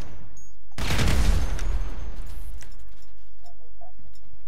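Gunshot burst in GTA 5, a single loud broadband blast followed by a decaying rumble and scattered clicks, with no speech.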